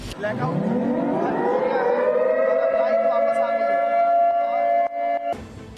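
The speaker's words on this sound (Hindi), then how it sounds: "टीटी नगर के अटल परिसर में सायरन की आवाज गूंज उठी।" A civil defense siren at a mock drill in Atal Parisar, TT Nagar, Bhopal winds up from a low growl to a loud, sustained wailing tone, steady for several seconds before cutting off abruptly.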